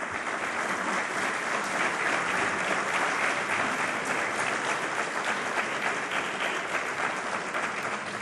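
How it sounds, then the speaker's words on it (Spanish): Steady, loud applause from a concert audience honouring the ochote (male vocal octet) La Unión at a memorial singing event in Asturias, sustained evenly for the whole stretch without voices on top. "Fuerte aplauso."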